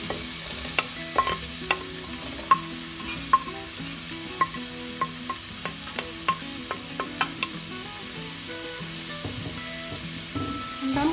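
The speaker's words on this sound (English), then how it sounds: "I'm gonna let the onions cook for about a minute or so." Onions frying in a soup pot with about a tablespoon and a half of olive oil give a steady soft sizzle, broken by repeated sharp clinks and scrapes of stirring spread through the stretch.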